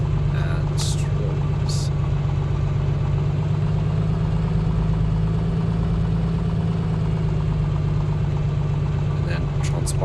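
A Piper Comanche engine runs up in MSFS 2020, giving a loud, steady, low droning hum that holds without a break for the whole stretch, while a voice talks over it.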